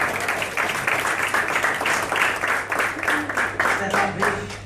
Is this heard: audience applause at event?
yes